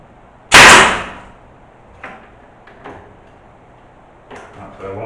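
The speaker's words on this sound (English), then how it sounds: "set the nail gun, cover your ears" A nail gun fires once into a floorboard during a finca restoration in Spain, one sharp loud close crack with a fast fading tail, followed by a few faint knocks and handling taps.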